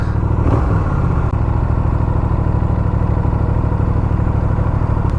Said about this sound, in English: The engine is already warm.